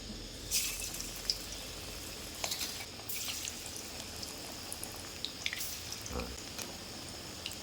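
Sliced onions go into hot oil for Bengali piyaju and fry with a light, crackling sizzle, marked by a few sharp spits and splashes over a steady hiss.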